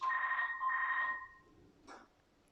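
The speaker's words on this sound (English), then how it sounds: "they're very determined because they tried me on my mobile and now they're trying on the landline" A landline telephone in a quilting shop gives one electronic double-tone ring, steady and moderately close, then a brief soft clunk in a quiet room.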